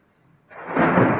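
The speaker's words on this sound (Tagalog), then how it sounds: "Kumukulog pa." Thunder rumbling during heavy rain in Jeddah, a deep broad roar that swells in after a quiet moment and stays loud to the end, with no talk over it.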